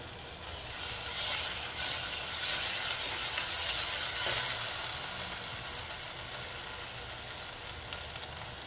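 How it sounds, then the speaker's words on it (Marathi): Ginger-garlic paste and spices hit hot oil in a pan for dhaba-style egg curry, raising a loud, close hiss that swells for several seconds and then settles into a softer, steady sizzle. "आता अद्रक लसूणची पेस्ट टाकू"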